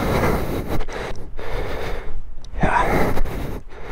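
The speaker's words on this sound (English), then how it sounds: "Excuse my heavy breathing." Heavy, ragged breathing from someone hiking a steep trail, close to the microphone, with gasping inhales and puffing exhales under gusts of wind noise.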